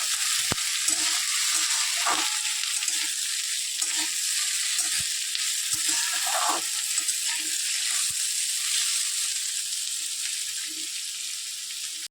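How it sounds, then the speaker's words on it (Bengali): Potatoes fry with browned onions in a pan, giving a steady, even sizzle broken by scattered clicks and taps of stirring. "এবার আলুগুলো ভালো করে লাল লাল করে ভাজবো"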